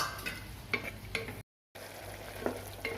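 Onion-tomato masala for chicken curry is stirred and sautéed in a pan, a soft steady sizzle broken by occasional scraping strokes, with a brief gap of silence in the middle.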